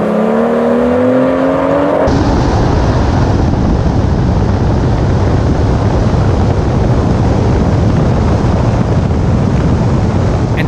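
A BMW M135i drag races other cars, starting with brief rising engine tones before a loud, steady wind-buffeted roar takes over for the rest of the run.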